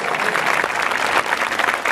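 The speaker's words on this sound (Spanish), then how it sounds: "Un aplauso para ustedes, pueblo valiente de Dios." An audience claps energetically throughout, with a thick, continuous patter of many hands close by and no voices on top.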